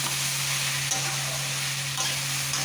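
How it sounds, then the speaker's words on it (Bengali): Bottle gourd and fried potato sizzle steadily in a hot pan as they are stirred, a dense continuous hiss with a few faint scrapes of the utensil, close and even throughout. "এবার এই লাউটা একটু নাড়াচাড়া করে নেবো আমি।"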